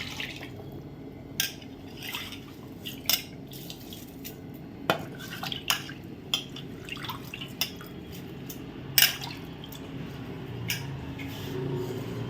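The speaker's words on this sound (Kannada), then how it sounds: "ನೋಡಿ, ಈಗ ಅಕ್ಕಿ ಹಾಕ್ತಾಯಿದ್ದೀನಿ" Uncooked rice being added to a pot of watery chicken biryani, giving a run of soft drips and splashes with scattered sharper pattering hits over a low background hum.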